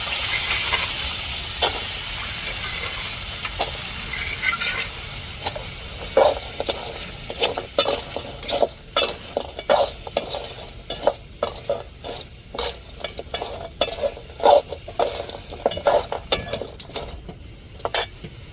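Crab frying in a pan starts as a loud hiss of steam and sizzle, then turns into repeated scraping and clacking of stirring that grows sharper and more frequent, close up with no talking.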